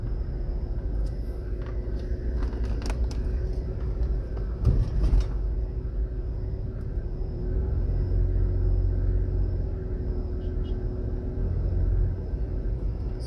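A car driving out of the town of Old Harbour, Jamaica: a steady, continuous low engine and road rumble from inside the vehicle, with a few brief knocks, and no talking.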